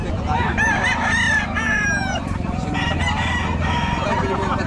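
Hens and chickens on a farm cluck busily, with drawn-out crowing calls rising above the close, continuous flock noise.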